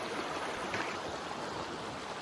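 A river flows at a fork along a mountain trail in the Mission Creek area, a steady broadband rush of moving water heard from nearby, continuous and unbroken, with no voices.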